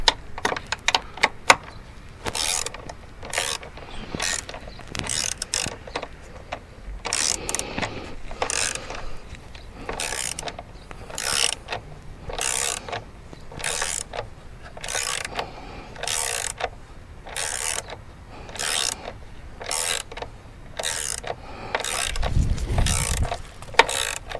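A nut being fitted onto a Volvo M56 manual gearbox, heard as a long run of sharp, regular metallic ratchet clicks from a hand tool, close and fairly quiet, with brief pauses and a low thump near the end.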